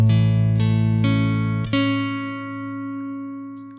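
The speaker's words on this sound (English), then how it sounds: "I'm playing this chord" A single chord strummed on a Fender Stratocaster electric guitar, clean and sustained, with a second strum partway through that rings out and slowly decays on its own.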